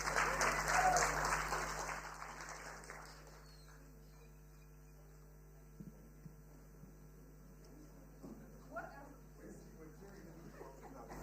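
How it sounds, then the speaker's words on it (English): Applause for panel speakers at the Cannes Lions 2022 festival swells briefly and dies away within about two seconds, leaving a low electrical hum with scattered quiet voices and small knocks. "A big round of applause for our speakers"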